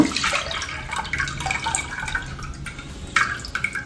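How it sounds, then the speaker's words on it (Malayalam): Tamarind extract poured into a pan of fish curry makes a close, steady liquid splashing and dribbling for about four seconds, with a brief louder splash near the end and no talking. "നമ്മൾ പുളി പിഴിഞ്ഞ് വെച്ചത് ഒഴിച്ചു കൊടുക്കുക."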